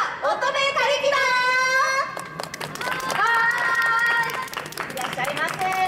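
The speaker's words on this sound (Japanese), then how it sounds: "皆さん温かい拍手でお迎えください" Scattered clapping from an audience welcoming a revue troupe on stage at the 39th Nakasu Festival in Fukuoka, Japan, runs beneath lively voices speaking and calling out over it.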